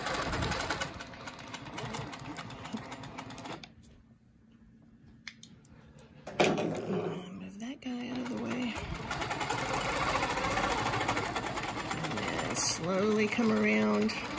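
A sewing machine stitches a twirly ruler quilt design, running steadily with a brief pause, while someone talks close by over the motor.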